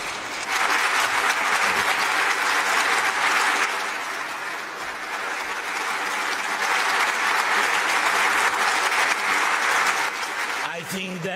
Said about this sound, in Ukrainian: Я думаю, що це аплодисменти не для мене, а для України і українським солдатам.